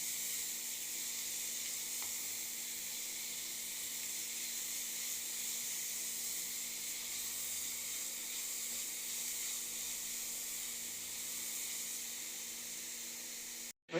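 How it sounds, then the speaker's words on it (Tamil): Grated carrot sautéing with curry leaves in a pan makes a faint, even sizzle and hiss that holds steady for the whole stretch, with no stirring accents and no voices. "பெரிய கேரட் ஒரு கேரட் அதே நல்லா வதக்கணும்"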